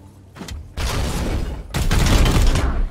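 Gunfire erupts in the Warhammer 40,000: Chaos Gate Daemonhunters video game, starting with a quiet shot, then a loud burst of rattling, booming shots and a second heavier volley that rumbles on until the end.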